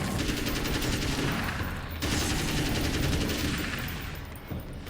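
Rapid gunfire from Alan Wake's American Nightmare rattles off in dense bursts, a brief gap near the middle, then trails into fading echoes toward the end.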